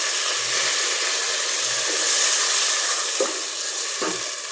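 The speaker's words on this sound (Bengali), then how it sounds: "একটু পানি দিয়ে দিলাম।" Onions fried for khichuri hiss and sizzle loudly as a splash of water hits the hot pan, a steady close frying crackle that stays alone throughout.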